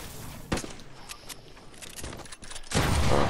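Video game gunfire bursts out in sharp cracks, one near 0.5 s, a few scattered shots in the middle and a dense sustained volley at the end, loud against a busy background with no one talking over it.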